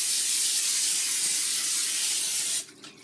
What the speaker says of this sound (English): we have some cooking spray, and we're going to spray the whole pan with it.